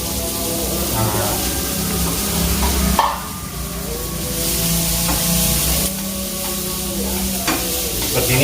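Onions and garlic stirred in a hot pan while they fry, a loud continuous sizzle broken by scraping strokes of the spoon, with a voice talking over it.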